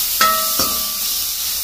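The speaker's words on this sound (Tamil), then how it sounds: "இப்போ இஞ்சி பூண்டு பேஸ்ட்டோட வெங்காயம் எல்லாம் நல்லா வதங்க" Onions and ginger-garlic paste sauté in a pan with a steady, close sizzling hiss, and two ringing clinks of a utensil near the start.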